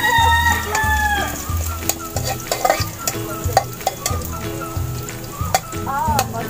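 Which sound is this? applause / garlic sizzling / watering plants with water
garlic sizzling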